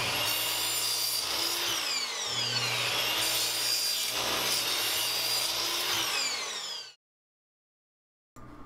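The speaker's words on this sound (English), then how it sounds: "now I'm going to cut the rest of them" Thin plywood pieces being cut one after another against a stop block, a loud continuous rasping saw whine with shifting pitch as each cut passes through, ending abruptly in silence before a brief restart.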